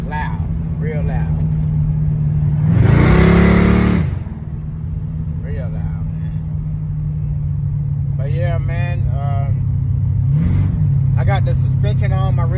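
A car with freshly installed aftermarket mufflers idles with a steady low drone, then revs sharply once, briefly and loudly, while someone talks nearby; a smaller blip follows later.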